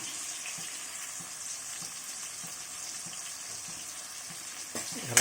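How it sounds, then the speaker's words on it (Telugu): Onions and green chillies frying in oil for a Nellore-style fish curry, a steady soft sizzle with faint stirring scrapes, ending in a brief louder clatter. "పచ్చిమిర్చి నీరుల్లిపాయలు వేస్తున్నాం. ఇది బాగా ఫ్రై అవ్వాలండి."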